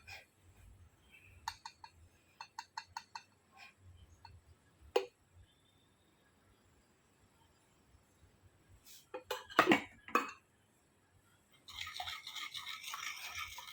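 A spoon stirs a mango and graham cracker dessert in a small bowl, giving scattered clinks and scrapes against the bowl at moderate volume, then a burst of rustly scraping near the end.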